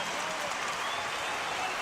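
Home crowd at an Adelaide 36ers basketball game against the Sydney Kings, 1998, rising to its feet as the game ends: a dense, steady wall of cheering and roaring fills the arena, loud and continuous with no single voice standing out.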